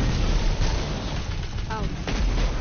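A grenade going off in Destiny 2 gameplay amid continuous loud gunfire and combat noise, with a dense rumbling wash throughout and no clear separate blast standing out.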